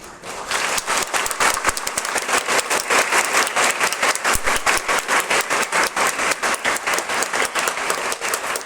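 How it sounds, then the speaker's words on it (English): Audience applause fills a school science exhibition at a Presbyterian higher secondary school, a dense, steady wash of many hands clapping close by, continuous for the whole stretch with no talk. "let's give a big round of applause so that this will be remembered in history from history"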